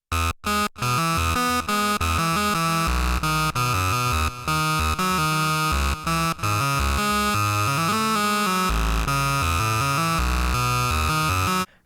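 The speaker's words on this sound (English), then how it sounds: "build a really nice mono synth lead that sounds like this" Mono synth lead voice built on a ZOIA effects pedal and played from an external MIDI controller, a bright, buzzy single-note melody with quick stepping notes and some held tones, loud and alone.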